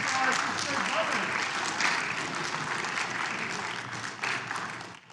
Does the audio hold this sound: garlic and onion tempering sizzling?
no